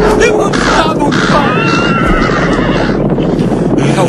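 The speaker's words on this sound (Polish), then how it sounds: "Uspokój konia!" A horse neighs loudly in a long whinny, heard over a noisy, rumbling background with people talking.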